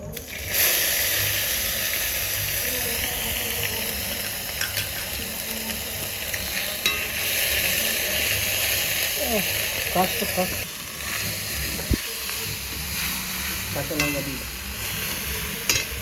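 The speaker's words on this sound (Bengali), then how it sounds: "তেলটা গরম হয়ে গেছে চামচ আদা বাটা এক চামচ রসুন বাটা দিয়ে দিলাম" Ginger and garlic paste frying in hot oil alongside whole cumin and cardamom gives a continuous, close hissing sizzle. A spoon scrapes and clinks now and then while a voice speaks faintly underneath.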